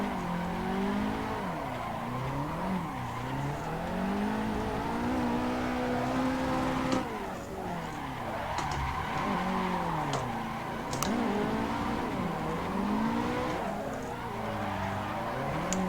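A car drifts in the Assetto Corsa sim, its engine note rising and falling continuously with sustained tire squeal through repeated slides, loud and steady throughout with one brief lift around the middle.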